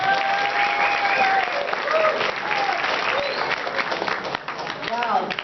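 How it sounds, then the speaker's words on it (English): Applause from a crowd at a Burma Human Rights Day benefit event fills the room, dense steady clapping with cheers and voices mixed in, loud and sustained throughout. "So give her a round of applause."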